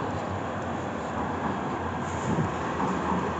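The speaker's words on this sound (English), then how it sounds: "It's the tram to Rochdale." A Manchester city-centre tram on the Rochdale line rumbles past up close, giving a continuous broad roar with faint rail clatter that lasts the whole short span.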